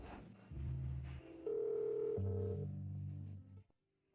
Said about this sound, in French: Ça vous dérange si j'emprunte votre téléphone pour passer un coup de fil?